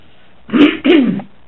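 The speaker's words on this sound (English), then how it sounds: "Try and clear my throat." Two quick, rough throat clears in close succession, near and fairly loud, with no talking.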